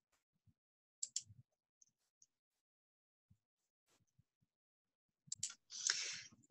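Quiet, sparse computer mouse clicks during a software walkthrough, a few isolated taps spread over several seconds, then a brief burst of louder clicking and scratchy handling noise near the end.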